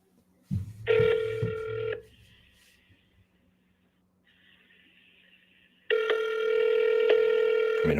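Outgoing telephone call ringing back on a line, two long electronic ring bursts separated by a pause with a faint tone, clear and close with no talk.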